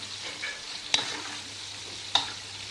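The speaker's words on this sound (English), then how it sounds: "now I fry a few of these onion rings, just again to absorb the oil" Onion rings sizzling as they fry in hot oil in a Costa Blanca kitchen, a steady close crackle with two sharp pops standing out, no talking.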